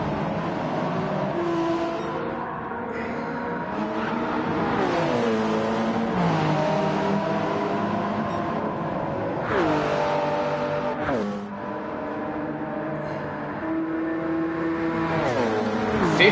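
Race cars in Gran Turismo 7 at Circuit de la Sarthe, several engines screaming at high revs as they slipstream down the straight, pitch rising and falling with gear changes, close and loud throughout.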